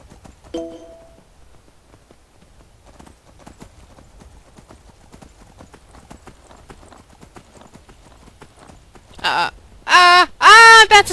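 Horse hooves clip-clop steadily through a Skyrim game scene, a quiet galloping rhythm that runs under other game sounds before a loud burst of sound near the end.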